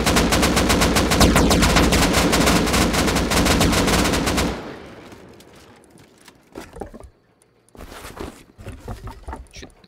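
Rapid automatic gunfire in the video game Rust during a raid on a base, a dense loud burst lasting about four seconds, then a few scattered single shots and softer clatter.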